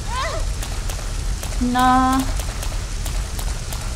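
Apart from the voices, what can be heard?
rain in Resident Evil Code Veronica X video game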